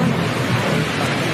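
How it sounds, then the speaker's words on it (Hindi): A short, loud burst of cartoon thunder rumbles together with the first heavy drops of rain hitting the soil, making a dense, noisy wash with no voices. "एक बिजली चमकती है और फिर पहली बूंद मिट्टी से टकराती है"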